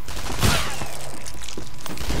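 Rapid gunfire in the Shadow Warrior shooter, loud continuous bursts with a heavy blast near the start, dense and close throughout the short stretch.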